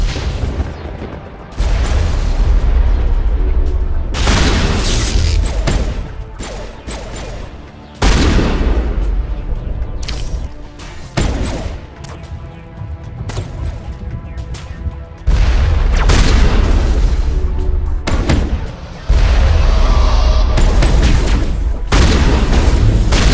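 Artillery fire in the video game Mass Effect 1, in a battle on Virmire: heavy booms and explosive blasts hit again and again across a loud battle din, with brief lulls between the salvos.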